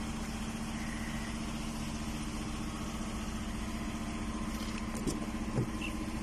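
A Ford F-150 XLT with a 4.2 engine idles with a steady, mid-pitched hum close by, a constant drone broken near the end by a couple of faint knocks.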